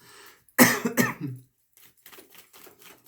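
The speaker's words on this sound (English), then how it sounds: "if I hack and cough and all that stuff and sound like a frog" Two sharp, close coughs in quick succession, followed by quieter rustling and faint breathy noises.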